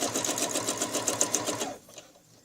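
A sewing machine stitches along a quilting ruler, its needle running in a fast, steady mechanical rhythm up close before stopping abruptly, leaving a faint hum.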